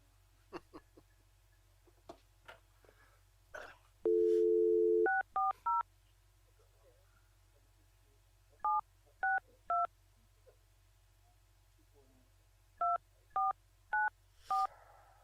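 Touch-tone telephone keys are dialed in short groups of beeps, with one longer tone and faint clicks and a low hum underneath, fairly quiet and without talk.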